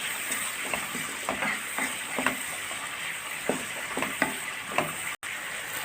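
Onions sprinkled with a little turmeric sizzle in a pan while being stirred until soft, the steady frying hiss broken by rhythmic scraping strokes of a spoon, close and moderately loud, with a brief dropout near the end.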